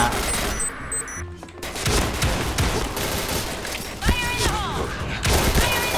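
Shotgun fire in a first-person shooter game: loud, repeated blasts overlap in a dense, continuous barrage, with a brief lull early on, and a voice talks faintly underneath.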